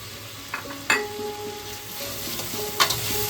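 Fried potatoes being stirred into a sizzling spice masala in a pan, with a soft steady sizzle, a couple of sharp utensil knocks and faint ringing tones from the metal.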